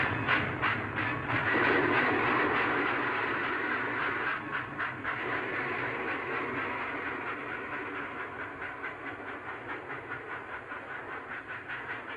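A train rolls through a railway station, its wheels clicking in a steady, repeating rhythm under a constant hiss and rumble that fades slowly over about twelve seconds.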